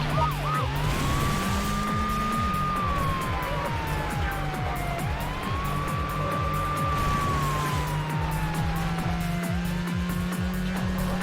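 A wailing police siren rises and falls in long sweeps during a car pursuit in the video game Need for Speed Hot Pursuit 2, steady over a droning engine with occasional tire squeals.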